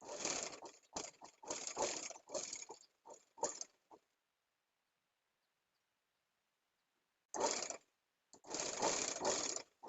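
Domestic sewing machine stitching through four stacked fabric layers for a frilled long frock, loud rapid mechanical bursts in two runs separated by a few seconds of silence.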